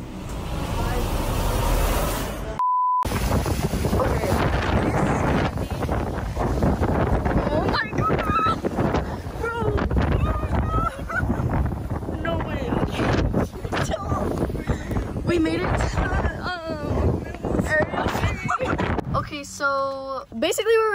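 Strong outdoor wind buffets a microphone in heavy, continuous rumbling gusts that nearly drown out voices speaking underneath, with a brief gap early on.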